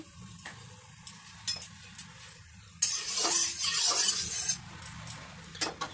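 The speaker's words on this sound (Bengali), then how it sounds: "গরম তেলের মধ্যে আমি অল্প একটু হলুদ দিয়ে দেবো" Turmeric powder dropped into hot oil in a pan before frying katla fish, bursting into a loud, steady sizzle from about halfway through after scattered soft clinks and stirring.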